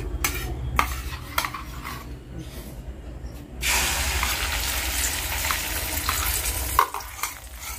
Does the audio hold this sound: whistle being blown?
no